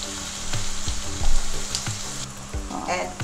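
Four medium onions and a generous amount of chili fry in smoking-hot oil for an Assamese meal, giving a loud, steady sizzle with intermittent clinks of stirring.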